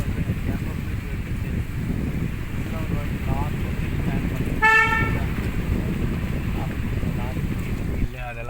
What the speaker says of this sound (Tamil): அது சேம் அதே மாதிரி ஹார்ன் அடிச்சுட்டு